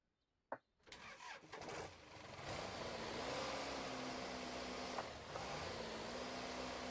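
Toyota FJ in Spintires, starting with a sharp crank click before the engine catches and settles into a steady, loud idle drone.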